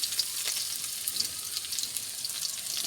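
Garlic and chopped onion fry in a pan with a steady, close hiss and sizzle, a continuous bright crackle throughout with small pops, and no talking.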